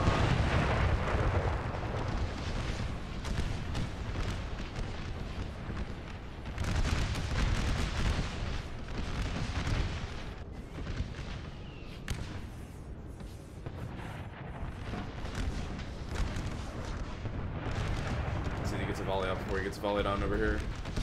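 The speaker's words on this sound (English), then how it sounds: "That Iron Brigade shooting and reloading is next level." Musket volleys roar through an American Civil War battle video game, a dense, continuous barrage of loud rolling gunfire and booms that layers into a constant din.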